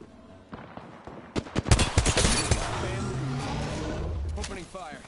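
Gunfire in Apex Legends: a quick burst of rapid automatic shots followed by a sustained roar of action, with talking over the noise.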